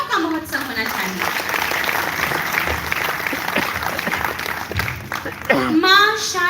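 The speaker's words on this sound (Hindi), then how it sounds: "इस उत्सव के लिए एक बार तालियों का महोत्सव होना चाहिए।" Audience at a Hindi poetry festival applauds in a sustained wash of clapping, with a voice speaking over it at the start and end.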